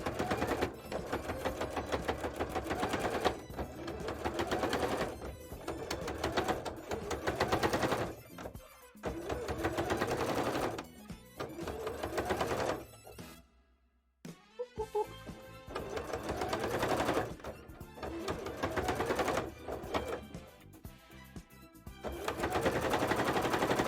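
A sewing machine stitching a bra, running loud and close in long rapid rattling bursts, with one brief stop about two thirds through before the whirring stitching resumes.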